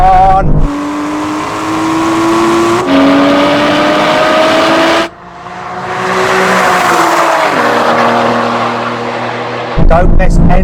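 Aston Martin Valkyrie, Vanquish and V12 Vantage cars rev hard in a drag race, loud engine notes climbing through gear shifts with brief breaks between runs, and a voice talking over the roar.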